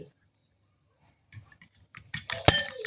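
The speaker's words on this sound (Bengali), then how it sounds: "এখন সুন্দর করে একটু কাঁটা চামচ দিয়ে ফেটে নেব।" A fork beats eggs, sugar and yeast in a bowl, heard only near the end as a brief burst of quick, close clinks after near-silence with a few faint knocks.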